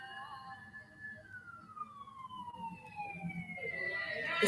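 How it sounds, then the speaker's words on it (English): A wailing emergency-vehicle siren rises and falls outside, sweeping steadily through its tone and growing louder toward the end, with faint background noise beneath. "The sirens are playing behind me."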